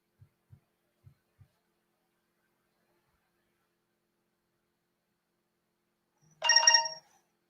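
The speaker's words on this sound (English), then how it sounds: "Getting a phone call." Short electronic phone ring, a single bright harmonic burst near the end, preceded by a few faint soft thumps in near silence.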